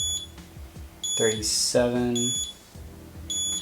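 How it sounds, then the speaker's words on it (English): Repeated electronic beeps from a multimeter's high-voltage alarm while lithium cells are measured for a 13S2P battery pack build, sounding in short bursts under a man counting voltage readings aloud. "Don't mind the beeping, that's just a high voltage alarm on my multimeter."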